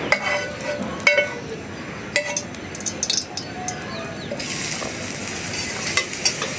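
Leftover oil from frying katla fish sizzles in the pan with a steady crackle, broken by a few metallic clinks of a utensil and growing brighter and hissier toward the end.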